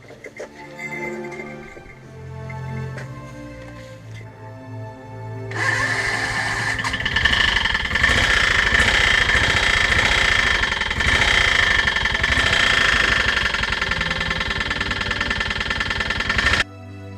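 A chainsaw engine roars loud and close for about eleven seconds after a quieter opening, running at a steady, high-revving drone on a gold-hunting trip in the Canadian bush.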